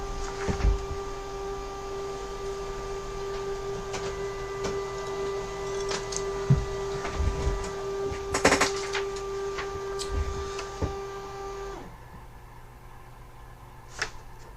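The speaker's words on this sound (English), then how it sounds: "Printing now." A printer running a job of digital lockout tags, a steady mechanical whir with a sustained tone and intermittent clicks and clunks, stopping abruptly near the end with a final soft click.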